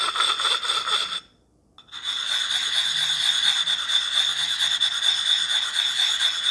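The edges and corners of a sharpening stone are rounded off by rubbing, giving a close, steady gritty rasp with a brief pause early on before the scraping resumes.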